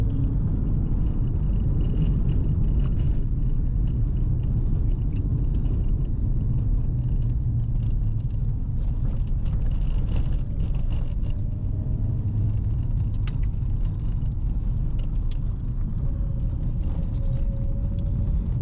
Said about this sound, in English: another reason that this diff needs to be changed out is it's extremely noisy.